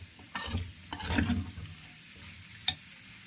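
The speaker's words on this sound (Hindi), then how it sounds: "इस तरह से डाल के गोभी को फ्राई करेंगे। गोभी को 2 मिनट हमने इस तरह से रोस्ट करना है ऑयल के साथ।" Cut cauliflower tossed into hot oil for roasting, giving a soft sizzle with a few brief stirring bursts near the start and one short clatter later, otherwise a low steady frying hiss.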